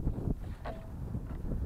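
Wind buffets a microphone at a model airplane flying field, a steady low rumbling roar with gusty swells and no talking.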